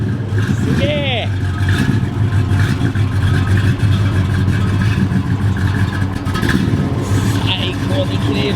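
A classic American Dodge Charger R/T of the 1968–70 kind rumbles with a loud, steady low engine drone that runs throughout, close by, under excited voices talking over it.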